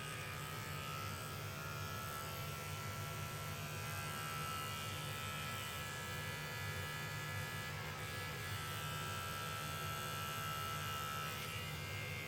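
An electric shaver buzzes steadily and close for the whole stretch, a constant motor drone with a bright high whine as it is worked against something that resists coming off.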